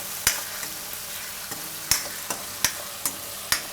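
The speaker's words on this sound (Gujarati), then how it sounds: "થોડીક વાર આ રીતે ફેરવી લેવાનું," Stirring and frying in hot oil in a pan for palak paneer: a continuous sizzle broken by sharp spoon scrapes and taps at irregular intervals, close and clear, with no talk.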